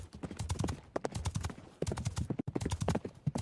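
Horse hooves clip-clop in a quick, steady rhythm during a ride, loud and close, with hoofbeats falling in rapid clusters throughout.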